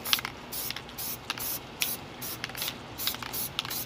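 White spray paint lightly coating a handmade planet model, a string of short hissing bursts with small rattling clicks between them, heard close up with no talking.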